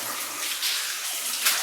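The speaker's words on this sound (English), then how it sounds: "A little bit of water coming down through here." Water trickles and splashes down through the workings of an abandoned mine, a steady, soft hissing wash that continues throughout without any voices.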